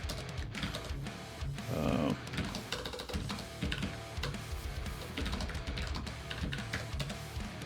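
Computer keyboard keys clatter in quick irregular bursts close to the microphone, with brief pauses between runs of taps and a low background hum.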